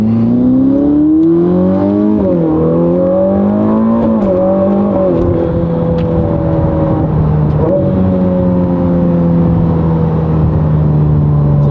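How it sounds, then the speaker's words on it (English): Ferrari SF90 engine droning loudly from inside the car with windows up, rising and falling through gear changes, with a whirring turbo whine layered over the rumble. "the turbos sound absolutely insane"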